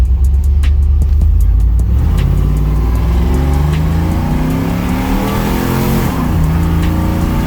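A big-cam single-cab truck engine revs hard and climbs in pitch, roaring continuously up close, with rising whine of tires spinning in a burnout; no talking.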